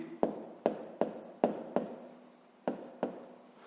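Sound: writing down a maths answer

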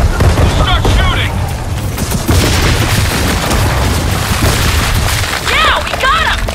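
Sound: gunfire from the video game Gears of War 4

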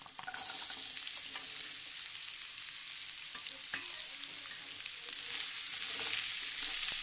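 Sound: pumpkin frying in a pan

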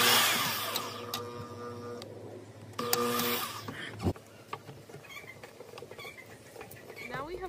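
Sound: drilling holes to mount a rear dash cam

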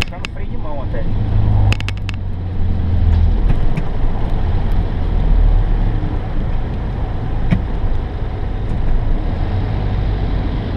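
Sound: truck engine brake while driving in Japan

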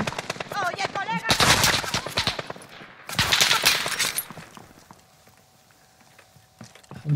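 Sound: gunshots in Call of Duty: Modern Warfare video game

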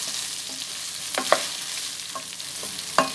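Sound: stirring washed rice and vermicelli frying in oil

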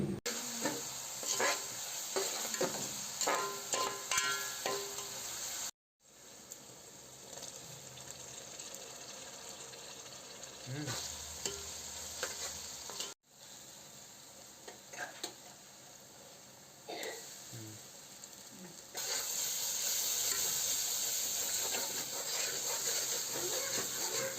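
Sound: frying onions, green chilies and curry leaves in oil

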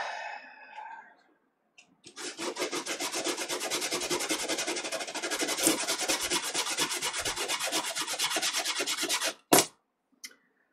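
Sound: sanding a wooden boat hull

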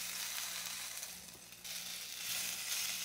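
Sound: pork loin filet sizzling as it is turned over in air fryer

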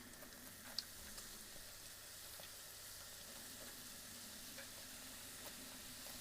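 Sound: doughnuts frying in a pan

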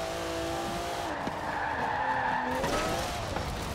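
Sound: car skidding, Forza Horizon 4 video game

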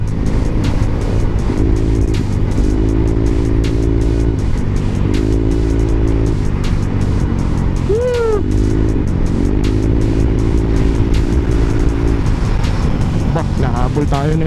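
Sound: motorcycle engine riding

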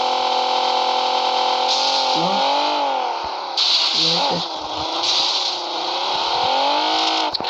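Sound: car engine revving in video game

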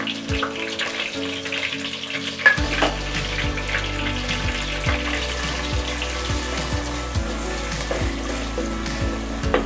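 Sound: frying onion paste and green chillies in hot oil

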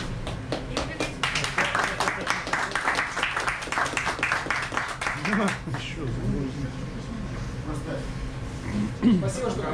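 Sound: audience applause at a truck festival

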